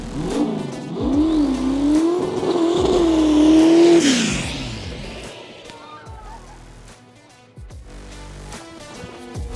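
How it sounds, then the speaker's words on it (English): A car doing a burnout at a gender reveal, its engine revving hard and climbing in pitch with a loud sustained roar, then easing off into a rougher idle with scattered noise. "Ever seen a burnout gender reveal?"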